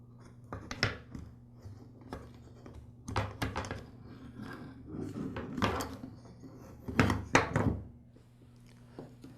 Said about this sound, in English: With the fasteners removed, now I can go ahead and open the switch handle assembly.